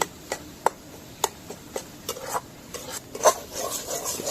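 Dal for dal bhuna fries in a pan, with a quiet sizzle under regular scraping stirs of the spatula, about a dozen strokes in an uneven rhythm, and no talk.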